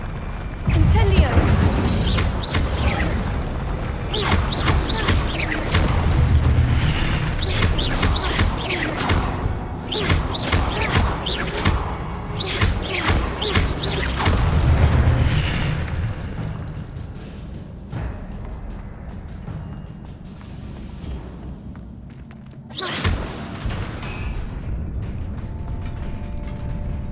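The Incendio fire spell from a Harry Potter video game goes off in rough, crackling whooshing bursts with rumbling crashes. It repeats over a loud, dense mix of game sounds and then fades to a quieter hum.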